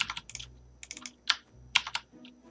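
Quick bursts of keystrokes clatter on a computer keyboard, coming in uneven clusters with short pauses between them. The sound is close and fairly quiet, with no talking.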